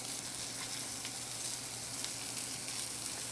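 Mushrooms hit a hot pan of butter and oil and sizzle steadily, a dense, even crackle that carries on without pause and with no voices over it.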